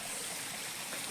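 A mountain stream at Setibeni, Nepal, gives a brief, faint, steady rush of flowing water with no other sounds.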